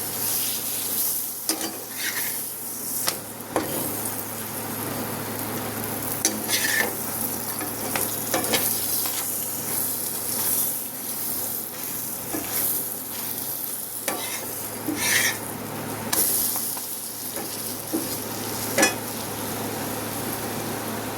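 Salted peanut bread frying in butter in a pan, a steady soft sizzle broken by frequent scraping and stirring clatters of a utensil, close by with no talking.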